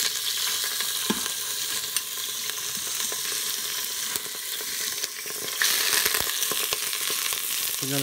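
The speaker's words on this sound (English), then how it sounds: "I'm just going to sear it for about 1 to 2 minutes on both sides to get it nice and brown" Pork chop searing in a GeekChef electric pressure cooker, a steady close hiss of frying fat with scattered pops and a few stirring or flipping clatters, louder briefly near the end.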